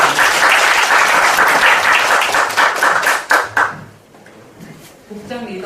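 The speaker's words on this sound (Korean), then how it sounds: "그러면 같이 한번 박수로" A church congregation applauds during a Sunday service, a broad sustained wash of many hands clapping that tapers off and stops, followed by quiet room sound and the start of a voice.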